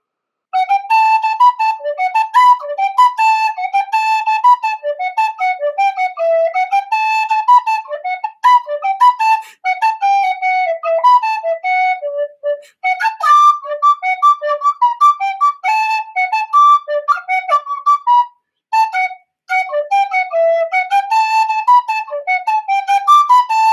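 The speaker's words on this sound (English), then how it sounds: "I can do a different song on Tin Whistle if you want." A tin whistle plays a lively folk melody alone, bright sustained notes with quick ornaments and brief breath pauses, close and steady throughout.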